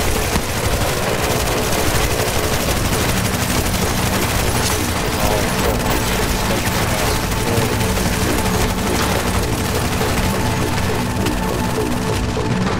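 Dense, continuous gunfire from a video game shooter, rapid overlapping bursts and crashes filling the whole stretch at a steady loud level with no pauses.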